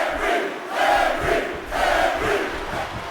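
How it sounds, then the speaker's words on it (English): Wrestling fans in an arena roar for Mark Henry, a loud crowd din rising and falling in two broad surges of cheering and shouting. "Fans cheering for Mark Henry"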